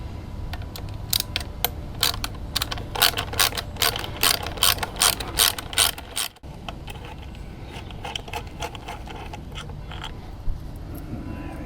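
Hand ratchet undoing Allen and 10mm bolts on the front guard of an Aprilia RS 125 motorbike, close rapid clicking in quick bursts of repeated strokes that pause and then trail off into quieter fiddling.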